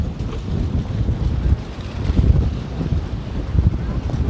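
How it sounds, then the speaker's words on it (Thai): Wind blows at the Bang Pu seaside resort, buffeting the microphone with continuous low, rumbling gusts that rise and fall in loudness. "ลมวอยวอยลมแห้งกันเลย"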